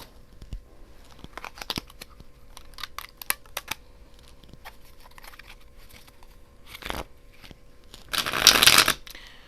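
A deck of tarot cards is handled up close, with scattered soft flicks and taps of cardstock followed near the end by a louder, dense burst of riffled shuffling.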